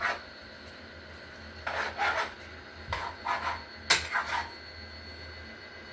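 Spoon stirring butter into cooked cabbage in a pot, a few short scraping, rubbing strokes in uneven bursts over a low steady background hum, close and fairly quiet.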